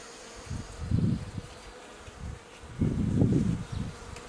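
Honey bees buzzing around an open hive during a spring inspection, low droning hums swelling and fading in bursts, close by with no talk.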